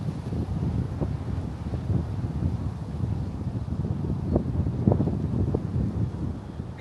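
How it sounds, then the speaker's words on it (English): Strong, cold wind buffets the microphone at Round Rock Cemetery in Texas, a steady low roar with gusty swells and rustling throughout, no voices. "Got a strong wind blowing here too."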